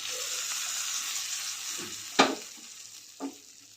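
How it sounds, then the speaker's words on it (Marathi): A hot tadka is poured over coconut chutney in a bowl, giving a soft sizzle with a sharp crackling burst partway through and a smaller pop soon after, then a fading hiss. "आता बाउलमध्ये आपण खोबऱ्याची चटणी काढून घेतलेला आहे त्यावर आता हे तडका घालते"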